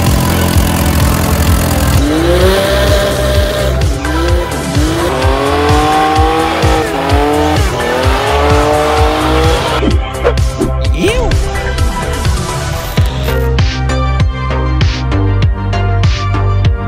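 A drift ute slides with loud, sustained tire squeal and screeching, its engine revving and roaring close by in repeated bursts throughout.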